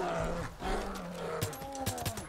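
A grizzly bear in Far Cry 5 lets out a series of low, growling roars in short bursts, fairly quiet and alone.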